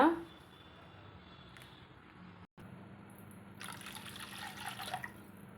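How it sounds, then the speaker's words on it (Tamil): After a quiet pause, water pours into a blender jar for a couple of seconds, splashing near the microphone over low background hum. "நம்ம ஜாரை கழுவி தண்ணியை சேர்த்துக்கலாங்க"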